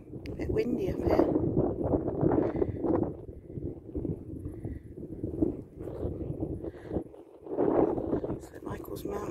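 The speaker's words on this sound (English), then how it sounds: "Windy up here." Strong wind on high ground buffets and roars across the microphone throughout, with gusts rising and falling, while a voice talks over it.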